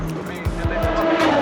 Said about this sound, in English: So now we got the warm up for the race.